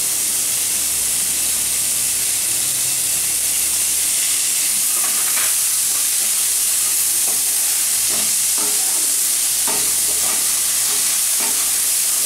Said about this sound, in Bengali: এবার আমি আদা বাটাটা দিয়ে দেবো, লঙ্কা বাটাটাও দিয়ে দেবো, জিরা বাটাটাও দিয়ে দেবো।